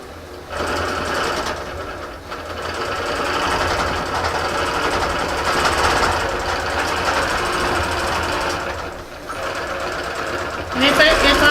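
A longarm quilting machine stitches a Prairie Blossoms quilt stretched on the frame, giving a steady, continuous mechanical hum that runs almost the whole time, with someone talking over it.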